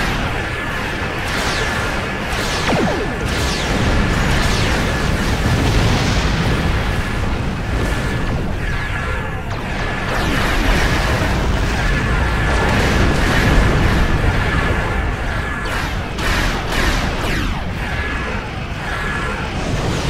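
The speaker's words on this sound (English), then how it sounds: "they are all using anti-protons and chronoton torpedoes" Heavy explosions from anti-proton and chronoton torpedoes in a video game roll on continuously and loudly for about twenty seconds, as dense overlapping booms and blasts with no talking.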